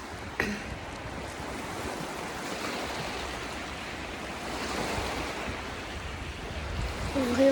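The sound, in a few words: ocean waves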